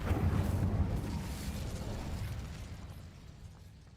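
A Bombarda blast spell goes off in Hogwarts Legacy, a loud booming burst at the start whose rumble slowly fades away over the next few seconds, with no voices over it.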